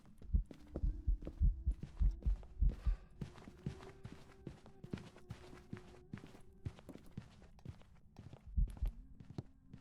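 Ghost footsteps in the Phasmophobia horror game thud in a steady run of muffled low steps that quicken, over a faint hum.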